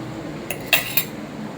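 A metal spoon stirs lemon and sugar juice in a glass, giving two or three sharp clinks against the rim over a quiet background, with no talk.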